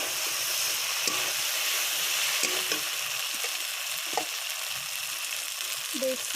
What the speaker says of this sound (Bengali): এবার আমি মাছগুলো দিয়ে একটু কষিয়ে নেব।